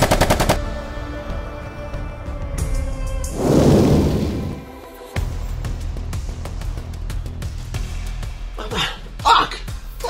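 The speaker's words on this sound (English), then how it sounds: "Fucking shooting at us, Ed." Rapid gunfire rattles in Borderlands 3, with bursts of automatic shots and sharp bangs close and loud, interspersed with thuds and game effects, while a voice talks over the action.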